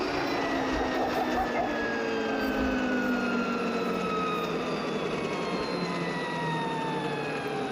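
The electric motor of a Stark Varg dirt bike, rated at 55 hp, whines steadily while it rides on the road, a continuous tonal whine with rising and falling pitch sweeps over road and wind rush, close and loud throughout.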